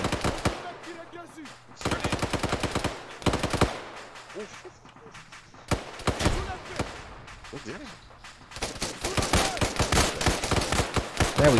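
Rapid automatic gunfire from a military shooter video game set on an Israeli forces mission, arriving in several loud, dense bursts separated by brief lulls, with the firing heaviest and most sustained toward the end.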